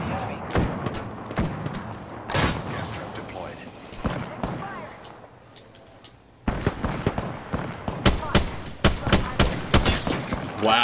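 Gunfire in the battle royale shooter Apex Legends, with repeated sharp shots and bursts; scattered early on, then a dense run of rapid, loud cracks in the final seconds, mixed with game effects.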